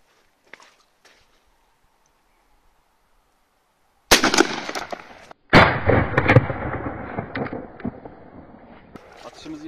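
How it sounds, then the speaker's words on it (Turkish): A D-DOXCARMS anti-materiel rifle is fired in a test. After several quiet seconds, two loud, sharp blasts sound about a second and a half apart, close by, each trailing into a rumbling echo. "Atışımızı yaptık."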